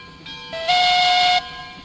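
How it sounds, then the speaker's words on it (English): A steam train whistle in an online game sounds a single chime, rising in two steps to a loud, sustained tone for under a second before cutting off sharply, close and clear with no talk. "Does sound like a German whistle. Or a British single chime bell whistle."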